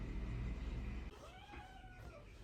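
A house cat gives a single drawn-out meow midway through, close and fairly clear, after a stretch of low rumbling room or vehicle noise, with no talk.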